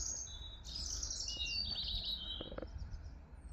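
Young birds flying together with older cock birds outdoors near dusk, giving a few clear chirps and short tweets over a low outdoor rumble.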